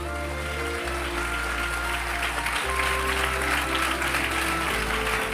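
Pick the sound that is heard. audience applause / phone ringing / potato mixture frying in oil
audience applause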